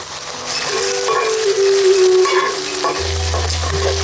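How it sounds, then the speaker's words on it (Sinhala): Chicken fries in oil as two eggs go into the pan, a loud close sizzle with stirring scrapes throughout and a low steady hum joining in near the end, no voices heard. "චිකන් ටික මේ විදිහට භාගයට තෙලෙන් තැම්බීගෙන එද්දී අපි මේකට එකතු කරගන්නවා අර කලින් කඩලා අයින් කරගනිපු බිත්තර 2."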